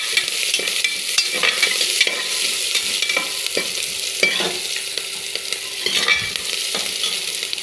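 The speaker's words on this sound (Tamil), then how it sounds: "எல்லாம் போட்டு நல்லா வதக்கிக்கோங்க." Onion, garlic, curry leaves and dried chillies sauté in hot oil, a constant crackling sizzle broken by repeated scraping stirs of a spoon against the pan, close up and with no talking.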